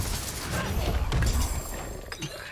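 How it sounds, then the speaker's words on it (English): A corpse explosion skill bursts in the video game Diablo IV with a loud shattering, crunching blast that swells mid-clip, followed by scattered clinks and smaller impacts amid game noise. "Corpse explosion!"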